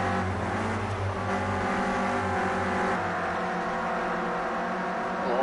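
Clio Cup race cars lap the Brands Hatch circuit, their engines producing a continuous layered drone with several overlapping tones, moderately loud with no talking.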